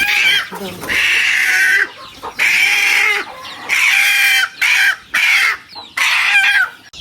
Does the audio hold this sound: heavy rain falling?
no